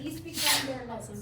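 In a college math lab classroom, a single quick sneeze bursts out, faint and brief, overlapping a teacher's talk.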